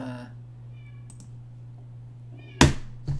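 A cat cries with a meow at the start, followed by a steady low hum and then a sharp knock and a softer thump near the end.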